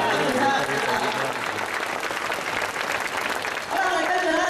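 Applause from an audience at a live Hong Kong digital radio stage show, a sustained patter of clapping that stays fairly steady, with a voice speaking over it near the end.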